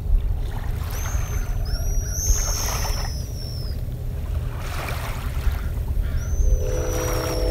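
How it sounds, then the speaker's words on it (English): Pigeon guillemots at a nesting colony on Anderson Island giving high, thin whistling chirps, several calls overlapping against steady water and wind noise, fairly close. "We've got a nesting colony of pigeon guillemot talking here on Anderson Island."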